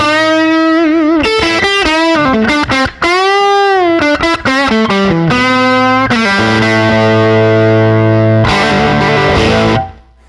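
An electric guitar fitted with original PAF pickups, played on the bridge pickup through a driven amp, rings out loud and close in distorted single notes, bends and sustained chords, ending with a held chord that cuts off.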